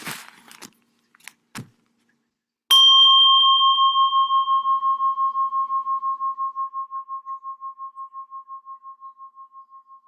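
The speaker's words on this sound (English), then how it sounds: "before I ring the bell" A meditation bell is struck once during a compassion meditation group, ringing out clearly and alone with a long, slowly fading sustain after a few faint knocks and rustles.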